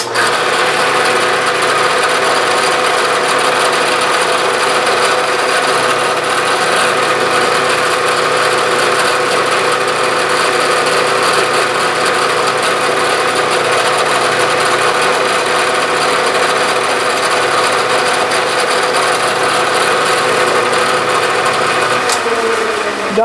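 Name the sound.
drilling holes in aluminum on a machine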